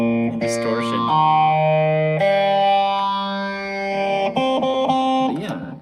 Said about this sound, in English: it's a weird sound. It's like phaser and distortion.